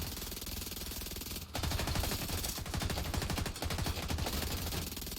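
Enemy gunfire in The Division 2, rapid automatic bursts of shots, loud and close, in long rattling strings broken by short pauses.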